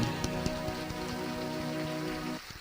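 A seated audience snaps or claps with several fingers to imitate heavy rain with hail, a dense, steady patter that fills the whole stretch, then thins abruptly near the end.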